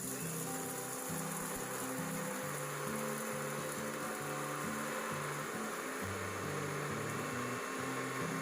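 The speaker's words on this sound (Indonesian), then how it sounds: "cangkang telur ini kemudian akan kita blender agar berbentuk seperti serbuk" Eggshells ground to powder in a kitchen blender, a continuous motor whir with shifting pitch and rattling grit, moderately quiet and steady, no talk.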